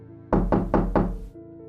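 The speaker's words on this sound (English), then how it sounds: "only to wake up to the knocking again" Four firm, evenly spaced knocks land on a door in the middle of the night, loud, close and hollow, followed by quiet.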